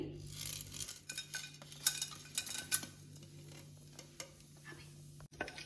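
Biryani masala spices frying in ghee and oil in a pot, a quiet sizzle under stirring scrapes and clinks of a utensil, with a low steady hum throughout.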